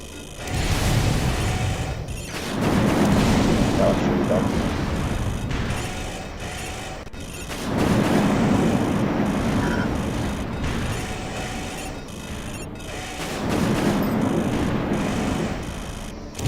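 Grenade explosions in the modded Silent Line video game, several big booming blasts each swelling and fading over a few seconds, repeating about every five seconds.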